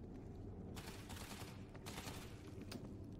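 Rapid gunfire in the zombie shooter World War Z comes in two dense bursts of rattling shots, moderately loud and continuous with no talk over them.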